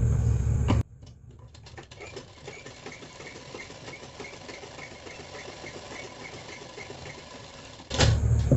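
An electric sewing machine stitches a sleeve onto cloth in a fast, even mechanical chatter that runs for several seconds. Louder handling noise comes just before and just after the stitching.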